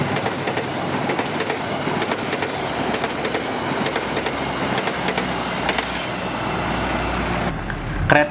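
The extra Argo Parahyangan train KA48F passes near Bekasi Timur with a continuous loud rumble and clickety-clack of wheels over rail joints, steady throughout before easing at the end.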